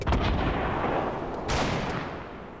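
Gunfire in the video game Fortnite, a dense, loud burst of booming shots that blur into a continuous roar, with a second sharp blast partway through, all fairly close.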